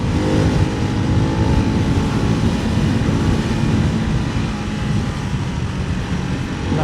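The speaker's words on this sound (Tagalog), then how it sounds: "Rev natin yung motor, parinig ko sa inyo. Single cylinder, dual exit exhaust yun by the way." Ducati Hypermotard 698 Mono single-cylinder motorcycle with dual exit exhaust, engine held at high revs close by, a loud continuous roar that eases slightly toward the end.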